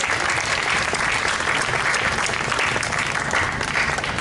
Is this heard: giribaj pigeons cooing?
no